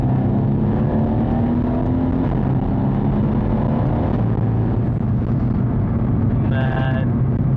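A 700 hp Mercedes C63S coupe accelerates in third gear with its exhaust valves open, giving a loud, steady, deep engine drone from inside the cabin while people talk over it.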